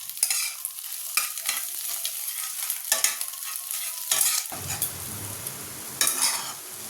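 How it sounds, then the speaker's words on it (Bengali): Egg fries in a pan for chowmein, with bursts of loud spatula stirring and scraping over a continuous close sizzle, several distinct strokes across the clip. "ডিমটা আগে একটুখানি ভেজে নিই লাল লাল করে ভাজবো"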